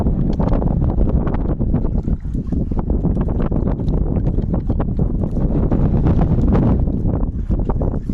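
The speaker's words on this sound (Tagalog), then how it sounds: "Kusog-kusog ito na hangin." Strong wind buffets the microphone in loud, continuous gusts, with a low rumbling roar like open water and a boat beneath it, out on Maqueda Bay while hunting blue crabs.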